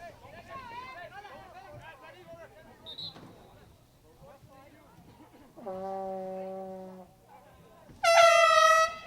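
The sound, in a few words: air horns blown by spectators at a soccer match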